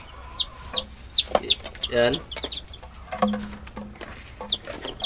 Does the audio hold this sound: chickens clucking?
yes